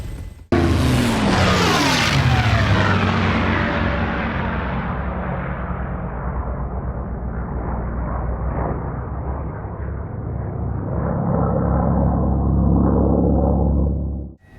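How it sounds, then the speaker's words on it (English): A Hype Performance Group H145 helicopter in Microsoft Flight Simulator spools up with a loud, sweeping turbine whine that settles into a heavy, continuous rotor and engine roar, then swells again before cutting off. "you can actually start enjoying flying this fantastic helicopter"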